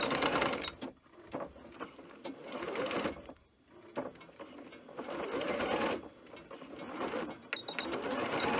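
A sewing machine runs a straight stitch at 3.0 length through knit fabric, its motor whirring and needle chattering fast and steady in several bursts, with brief pauses between runs.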